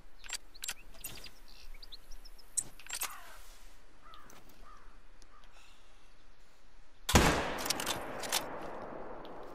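A 7mm hunting rifle fires once in a hunting video game, a single loud, sharp crack near the end that rings out over quiet outdoor ambience with faint bird chirps.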